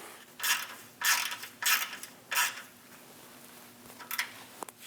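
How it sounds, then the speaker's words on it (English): Ratchet snugging a sway bar bushing stud into its nut on a Chevrolet Express 2500 van, four short bursts of quiet clicking spaced about a second apart, then a fainter burst. "I'm going to install this bottom stud into the nut that's on the back side of it. Snug the stud down."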